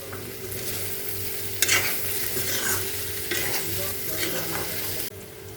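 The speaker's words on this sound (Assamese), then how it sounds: "এতিয়া মছলাখিনি ভালদৰে গলি নোযোৱালৈকে ভাজি থাকিম।" Pork masala sizzles steadily in a pan, with turmeric, red chilli powder and salt added, as a spatula scrapes and stirs through it in several brisk strokes; close, continuous frying with no talking.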